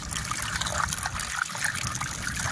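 Water trickles and pours off as sand is washed and drained, a steady close splashing flow throughout with no talk.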